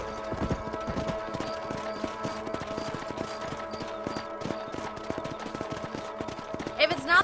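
Several horses clip-clop at a steady rhythmic gait across a ranch property in the video game Red Dead Redemption, close and continuous, with game music and ambience underneath and a louder clatter near the end.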